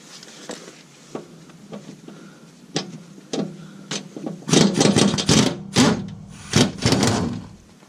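Bolts are worked loose with a 14mm or 9/16 wrench on a Gravely mower spindle assembly: scattered metallic clicks and taps build into a denser run of sharp clanks and scraping, close up, with no talk.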